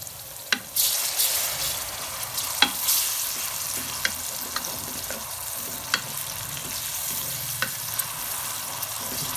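A steady sizzle of garlic ginger paste frying in a pan, with occasional stirring clinks and scrapes, no talking.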